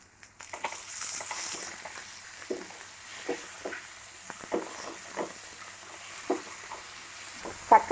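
Chopped tomato is added to onions sizzling in a pan for a potato curry, a soft, steady frying hiss broken by scattered stirring scrapes and taps, with no talk.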